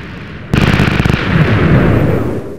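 A video game cannon fires with a sudden loud boom, followed by a rapid burst of crackling impacts and a sustained roaring rumble that slowly fades.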